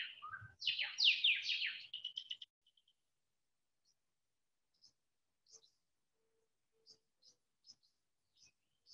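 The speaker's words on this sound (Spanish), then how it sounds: "¿Escuchaste los pajaritos?" Small birds chirp and trill in a short, fairly close burst, then give faint, scattered tweets at intervals against a quiet background.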